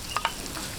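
Garlic and onion frying in a pan for Filipino vegetable lumpia filling, a brief close sizzle with two quick scraping stir clicks.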